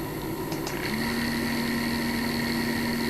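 A three-phase electric motor spins steadily at 800 RPM, giving a continuous hum with a high whine. A couple of brief clicks come early, then the tone runs unchanged and fairly loud to the end.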